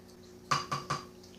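A spoon stirring gelatin into yogurt in a crockpot, making three quick, evenly spaced clinks against the pot in a quiet kitchen.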